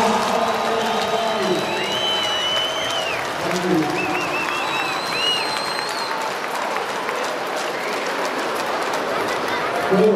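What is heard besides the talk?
crowd applause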